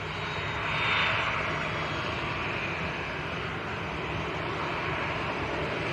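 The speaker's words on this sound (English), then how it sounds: "here comes a very nice one indeed. KLM to Amsterdam in the Sky Team livery" Airliner in KLM Sky Team livery passing at Manchester Airport, a steady broadband engine roar that swells slightly early on and then holds, continuous and fairly close, with no talk.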